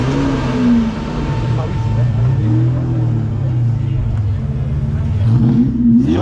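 A BMW V12 biturbo engine revs at a performance tuning shop, a loud, steady low drone with rising pitch sweeps, with voices talking over it throughout.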